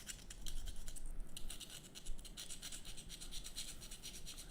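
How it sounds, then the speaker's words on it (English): Hand sanding of a plastic model tank part gives soft, close scratchy rubbing strokes in a quick irregular rhythm, faint and continuous. "now we will sand the rest of this."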